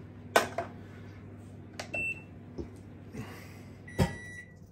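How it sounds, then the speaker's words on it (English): Butter exploding while heating in a microwave oven: a few sudden pops and thumps over the oven's low steady hum, with a faint beep among them. "That was butter exploding."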